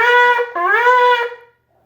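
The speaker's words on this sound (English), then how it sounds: "The next one is a shvarim, which is 3 medium blasts." A shofar sounds shvarim, three medium-length blasts in quick succession, at a Rosh Hashanah service, bright and brassy, close up, then falls silent.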